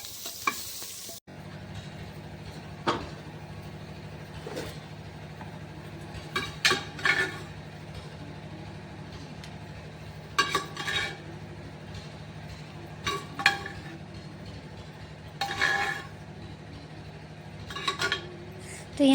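Whole spices such as cumin, black pepper, green and black cardamom and cinnamon, along with soybeans, roast in a pan for tempering, giving a steady low sizzle with occasional scrapes and clinks of a stirring utensil against the metal.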